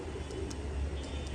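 Pakistani high-flyer pigeons cooing, a soft low coo amid a steady background hum, close by and brief, with no talking.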